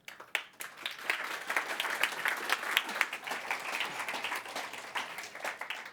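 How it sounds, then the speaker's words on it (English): A conference audience at a TypeScript talk at NG-BE 2023 claps for the speaker, a dense patter of many hands that swells quickly and holds steady, with a few sharper claps standing out near the front. "So give him a round of applause."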